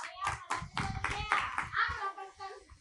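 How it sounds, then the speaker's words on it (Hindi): Children clap for Pawan Bhaiya during a Brahmi script class at a gurukul in Shahada, Maharashtra: a run of close, sharp claps in uneven rhythm, with kids' voices mixed in. "पवन भैया जी के लिए तालियां बजा दो।"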